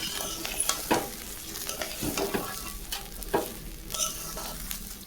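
Rice frying in ghee in a pan for khichuri, sizzling steadily with intermittent stirring scrapes and clinks close up, no talking.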